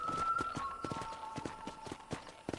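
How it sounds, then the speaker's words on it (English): Horse hooves clip-clop steadily on the ground in the Red Dead Redemption remaster video game, a quick rhythmic trot with a faint background tone. "let's see if you can still ride a horse"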